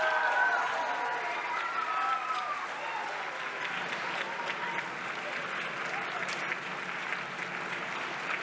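Sustained audience applause fills a spring festival choir concert hall, steady dense clapping from a large crowd, loud and continuous without breaks.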